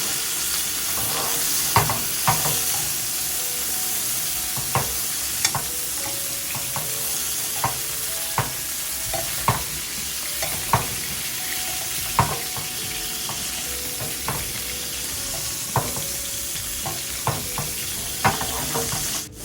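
Pan-seared scallops sizzling in a hot pan, a continuous close frying hiss with scattered crackles and small taps of utensils, with no talking.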